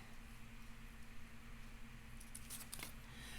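Scissors snip through cardstock or paper for a large lidded box, a few quiet, quick cuts near the end over a soft steady background hum.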